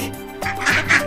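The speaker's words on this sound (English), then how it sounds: "Duck." Duck quacking, heard as two short, nasal quacks close together near the end of a brief moment, fairly close and clear against a faint background.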